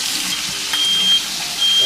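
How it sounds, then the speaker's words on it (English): A smoke alarm sounds in short, high-pitched beeps, repeating irregularly over the crackle of bacon sizzling in a frying pan. "And that's the smoke alarm."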